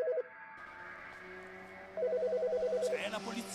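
Electronic telephone ringing plays in the video game As Dusk Falls, a steady repeating two-tone trill that starts, pauses, then returns louder over a low background hum, with some voices underneath.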